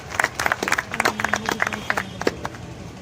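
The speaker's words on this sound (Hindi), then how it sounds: "जोरदार तालियों से उनका सम्मान करें।" Sparse, uneven clapping from a small crowd at a public event for Deputy Chief Minister Rajendra Shukla, individual claps bunching into short bursts before thinning out, with a low hum in the background.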